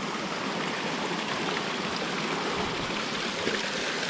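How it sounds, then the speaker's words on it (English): Steady broadband rush of a waterfall and stream along a rainforest trail, constant and fairly loud with no talking. "Plenty of waterfalls."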